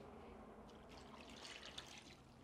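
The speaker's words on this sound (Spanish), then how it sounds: "Le voy a poner el agua." Water pours quietly into a clay pot holding seasoned pork ribs, a faint steady trickle and splash heard close without talk.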